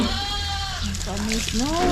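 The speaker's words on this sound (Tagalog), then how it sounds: "Kulungan ng kambing. Tsaka tupa." Goats and sheep bleat in a farm pen, several wavering calls rising and overlapping at close range while someone talks over them.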